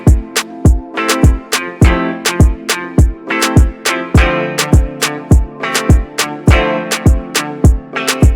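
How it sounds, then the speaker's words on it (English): A busy Afrobeat dancehall drum pattern loops steadily, with syncopated claps and snares over kicks and a tonal layer underneath, loud and upfront with no voices. "So this is another one of the Afrobeat dancehall sounding patterns."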